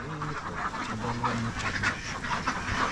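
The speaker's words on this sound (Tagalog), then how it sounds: "Tapos may itik din." Farm ducks quack in a busy, overlapping chorus at close range, with honking goose-like calls mixed in and steady low background noise throughout.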